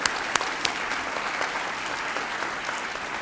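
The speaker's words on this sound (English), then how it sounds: "I'd love to have a big round of applause for them" An audience at a middle school dedication ceremony gives school board members a big round of applause. The clapping is steady, dense and fairly close, and it continues evenly without speech.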